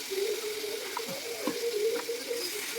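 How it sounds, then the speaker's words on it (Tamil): Onions frying with mutton liver, raw mango and turmeric in a pan, a soft steady sizzle with a few brief stirring scrapes, fairly close and without speech. "வெங்காயம் வதக்கிட்டு வருது"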